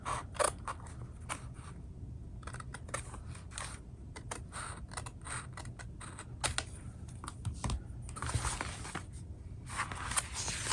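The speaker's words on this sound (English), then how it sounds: "I'm just going to cut it as flush as I can." Scissors slowly trimming a strip of paper flush from a notebook, a close run of small crisp snips and paper rustles, repeated steadily at low volume.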